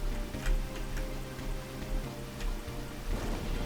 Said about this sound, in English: Now it's raining here.